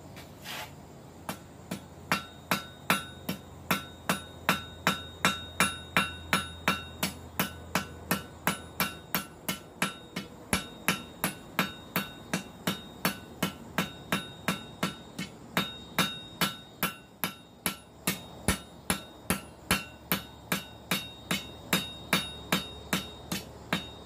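A hammer strikes hot metal while forging a coal rake, a steady, rhythmic series of ringing blows, dozens of evenly spaced clangs close by, with no talking.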